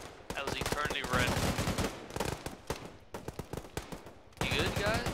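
Rapid automatic gunfire and single shots crack loudly and densely in an Arma 3 military operation. Bursts overlap in quick succession with brief lulls, and voices talk under the shooting.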